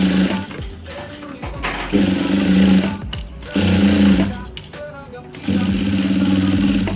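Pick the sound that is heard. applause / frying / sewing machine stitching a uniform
sewing machine stitching a uniform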